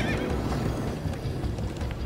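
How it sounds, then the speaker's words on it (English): Horses whinny and gallop in the video game Minecraft: Story Mode, with loud, continuous hoofbeats and neighing filling the short stretch. "Come on, horses!"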